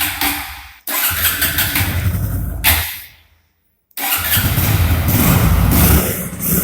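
A Hero Glamour motorcycle from 2017 with fuel injection starts on its electric starter, cranking and catching twice with a short gap before settling into a loud, close, steady idle.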